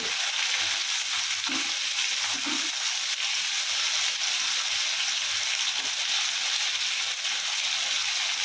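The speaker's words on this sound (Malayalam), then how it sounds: "എണ്ണയിൽ കിടന്ന് രണ്ട് മൂത്ത് വരട്ടെ വെളിച്ചുള്ളി" Garlic cloves, washed and still wet, sizzle and spit steadily in hot oil while frying for garlic pickle, a dense continuous crackle with a few soft stirring knocks.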